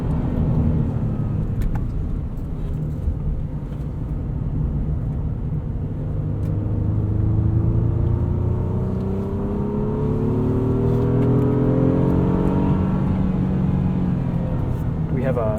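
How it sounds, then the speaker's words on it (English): A 2023 Honda Pilot's V6 engine accelerating on a back road, with automatic rev blips on downshifts, a steady in-cabin rumble whose pitch climbs and falls through the gears, heard with a voice talking. "The V6 helps with that. You get some auto blips on downshifts."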